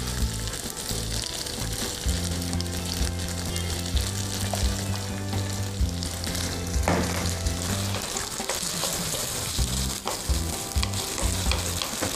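Food fries loudly in a pan, a dense continuous sizzle running throughout with scraping and stirring noises and a low rhythmic hum underneath.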